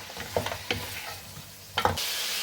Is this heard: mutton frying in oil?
yes